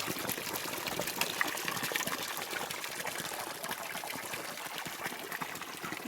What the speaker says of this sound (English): there's a bamboo here which is connecting the water. It's kind of tap. And the water is flowing here.